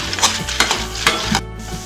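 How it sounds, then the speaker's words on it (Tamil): Pearl millet dry-roasting in a pan over a medium flame, with a spoon stirring and scraping the grains in a quick, uneven rhythm of several close, crisp strokes over a low, steady hiss. "மீடியம் ஃப்ளேமில் வச்சு வறுத்துடலாங்க"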